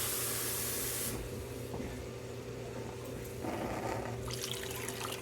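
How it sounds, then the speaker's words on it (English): Water pours from a vessel into a pot of goat meat on a stove, a steady close hissing splash that eases midway, then swells again toward the end. "we're going to go ahead now and add some water to the goat"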